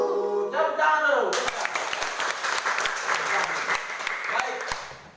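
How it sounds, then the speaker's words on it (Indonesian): Children applauding in a classroom, a burst of dense, lively clapping that starts right after a short sung phrase and continues steadily for several seconds, fairly close and loud. "Tepuk tangan dulu."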